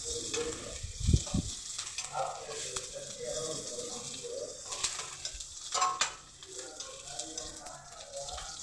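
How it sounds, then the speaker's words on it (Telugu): Onion pieces deep frying in hot oil for a fish curry give a continuous close sizzle with stirring scrapes and a few brief knocks. A voice speaks faintly over the frying. "అలాగే ఉల్లిపాయ ముక్కలు బాగా డీప్ ఫ్రై అవ్వాలి"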